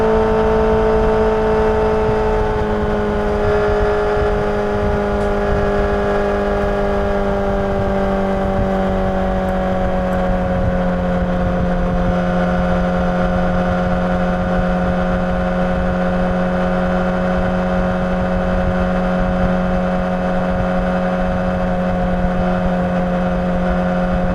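Honda CBR1000RR SP1 motorcycle underway, a loud sustained engine drone with steady harmonic tones that slide down in pitch then hold level, wind roar underneath, no talking.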